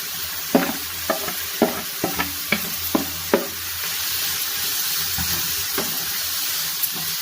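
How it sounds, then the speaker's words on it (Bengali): Grated cauliflower frying on high flame in a pan with cumin powder, a spoon scraping and stirring in a steady run of knocks at first, then a continuous loud sizzle alone without talk. "এবার আমি গ্রেট করা আমার ফুলকপিগুলো এটা দিয়ে দিচ্ছি।"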